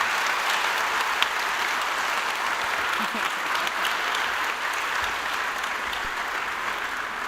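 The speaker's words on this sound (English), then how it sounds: "A round of applause for our guests." Sustained audience applause for guests at the close of an energy-industry debate event, a steady dense wash of many hands clapping throughout, fairly loud, with no talk over it.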